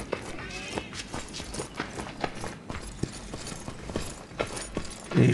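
Horse hoofsteps in the video game Myth of Empires clop in a steady walking rhythm, fairly faint and getting closer, with a louder thud at the end.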